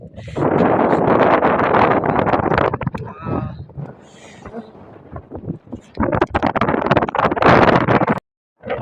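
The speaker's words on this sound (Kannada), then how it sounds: "ಎಂತ ಗಾಳಿ ಗೊತ್ತಾ" Strong wind on Kappatagudda hill in Gadag district buffets the microphone in loud, rough gusts, with a quieter lull midway before the roaring blasts return.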